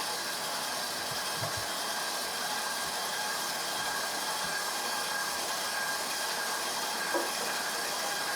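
A stand mixer works bread dough for Parker House rolls, giving a steady, continuous whirring motor hum with a faint rhythmic churn, close and unbroken, with no talking.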